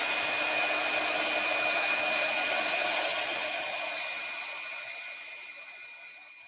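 A handheld dryer blows a steady, loud whoosh with a thin whine, drying a fresh coat of paint on a craft piece and fading slightly toward the end, with no voices.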